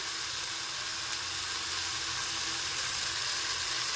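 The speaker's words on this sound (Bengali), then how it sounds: "এই পর্যায়ে আমি যে গুঁড়ো মশলার পেস্টটা তৈরি করে রেখেছি সেটা এর মধ্যে অ্যাড করব" Ghugni masala frying in oil as spice paste goes in, a steady, bright, hissing sizzle that holds evenly throughout at close range with no voices.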